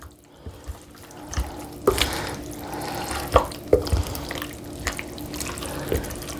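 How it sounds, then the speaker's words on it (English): Homemade spaghetti sauce with fresh basil is stirred in a crock pot, giving soft wet sloshing and a few sharper spoon knocks against the pot at irregular intervals. The sound is close, with no talking. "So stir it, get it all in there, mixed thoroughly."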